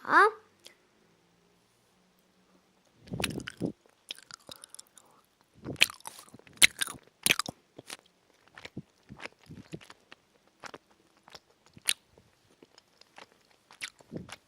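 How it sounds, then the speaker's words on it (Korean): Apple-flavored collagen jelly being chewed and bitten, a run of soft wet squishes and crunchy bites close to the mic, coming in irregular clusters after a short quiet pause, with brief sounds from the eater between bites. "자, 이번엔 두 번째 젤리 먹어볼게요"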